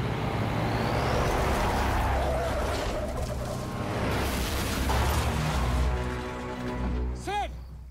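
A car drives past with a steady low engine rumble and road noise throughout, ending in a brief high-pitched tonal whine near the close, with voices mixed in.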